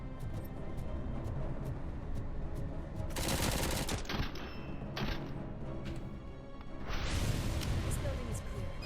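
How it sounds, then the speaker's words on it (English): Micro SMG fire in RoboCop: Rogue City, with two loud bursts of rapid shots standing out over a steady background of game sound and a talking voice. "Gonna pick up the micro SMG because our gun's almost out of pew pew."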